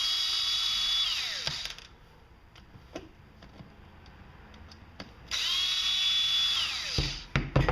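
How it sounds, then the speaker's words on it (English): A power drill whines up and winds down twice while backing screws out of the oiler on a Poulan Wild Thing chainsaw, with small clicks and taps between the runs. "Go ahead and remove the screws for the oiler."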